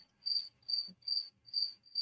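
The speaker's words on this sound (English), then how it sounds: "that's a big cricket" A cricket chirps in five evenly spaced, shrill pulsing trills, loud and close against a quiet background.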